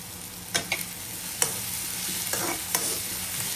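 Green chillies and curry leaves fry in hot oil, giving a steady close sizzle broken by a few sharp crackles and spoon scrapes as they are stirred in the pan.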